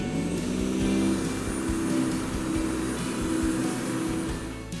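The motor of an SA40E machine runs steadily and loudly up close, a continuous low droning hum with a rough, slightly fluttering texture that holds without pause and eases slightly at the very end.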